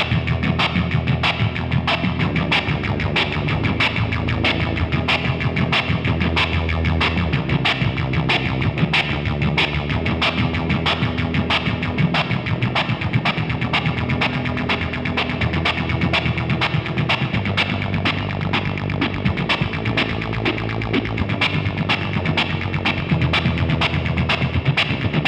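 Electric guitar run through a Boss SY-1 synth pedal with the rate turned up, giving a dense, loud, buzzy synthesized tone pulsing rapidly and steadily throughout, with no talking.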